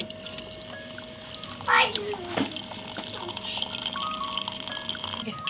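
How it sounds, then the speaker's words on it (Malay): Hot water is poured into a cup for tea, a brief splashing pour heard over a steady background hum while a voice talks nearby. "Setelah itu menaruhkan air panas ke dalam cawan."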